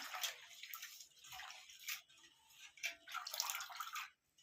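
Ingredients for a homemade ayurvedic soap are rinsed under running water, a faint, irregular splashing and trickling in short bursts with brief pauses between them.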